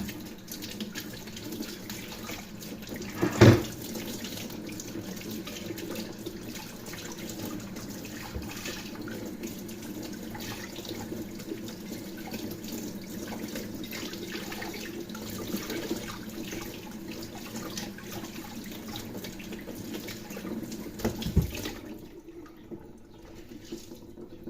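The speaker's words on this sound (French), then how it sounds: "Alors je vais rincer." Water runs continuously from a tap to rinse a restored part of a Brandt Statomatic 444 washing machine, a steady close hiss with a couple of brief louder splashes, then stopping near the end.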